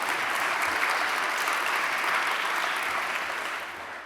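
A hall audience at a mayor's annual state of the city address breaks into sustained, dense clapping, loud and even before tapering off near the end.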